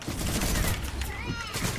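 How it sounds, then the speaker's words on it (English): Rapid gunfire in a Fortnite Zone Wars match rattles hard and close for under two seconds while a voice talks over the shots. "Bro, I'm getting shot through my walls."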